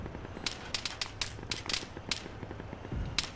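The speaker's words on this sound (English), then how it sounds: "Nice explosions." Scattered gunfire and explosions in the military shooter game Arma 3, irregular sharp cracks and pops at moderate distance, a few in quick clusters, ending with a deeper low rumble.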